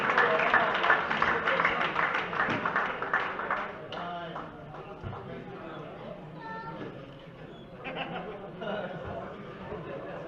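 Audience at an agricultural trophy ceremony in Monassut applauds the winners, with steady dense clapping and crowd chatter that fades into quieter murmuring and scattered claps, then picks up again near the end.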